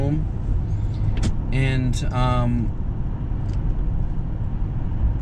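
Interior cabin noise of a Lincoln Town Car on the road: a steady low rumble and road hiss throughout, with a voice speaking briefly near the start over it.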